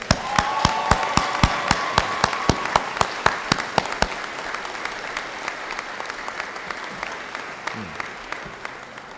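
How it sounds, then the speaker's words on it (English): Audience applause for graduates at a Hocking College summer graduation ceremony, loud dense clapping for about four seconds that thins into scattered claps and fades, with a few strong individual claps standing out. "let's take care of some of this time with another round of applause for our graduates"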